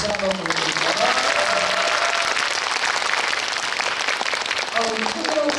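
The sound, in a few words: audience applause in cinema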